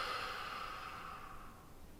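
A person exhales slowly and steadily through a yoga pose done in bed, a soft airy rush of breath that fades gradually over about two seconds, close and quiet with no talking.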